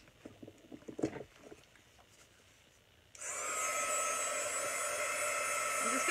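A hair dryer blows to dry ink on a Chalk Couture transfer, starting halfway through as a steady, loud whoosh after some faint handling noises.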